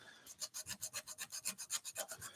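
Rhythmic rasping strokes of sandpaper rubbing by hand on a wooden flower turned on a lathe, about a dozen quick back-and-forth passes, close and fairly quiet.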